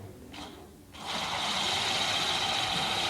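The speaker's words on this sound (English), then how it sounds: "the whole class had been working on machines to get mud off your shoes" A homemade shoe mud-brushing machine built by schoolchildren whirs up after a brief start and runs with a steady, close mechanical rattling buzz.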